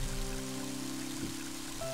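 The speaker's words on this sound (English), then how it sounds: "And now it's starting to rain." Rain pours in the video game Mother 3 as a steady, hissing wash over sustained tonal game music, with no talking.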